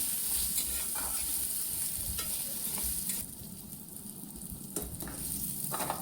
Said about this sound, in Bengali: এখন এইখানে কিছু কাজুটা হালকা ফ্রাই করে নিব।